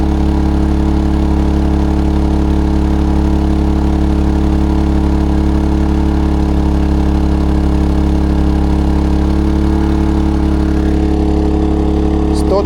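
A maXpeedingRODS MXR3800 petrol generator runs aboard a sailing yacht, its loud, steady engine drone holding for the whole stretch and rising slightly in pitch near the end.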